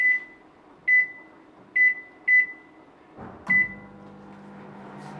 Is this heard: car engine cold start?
no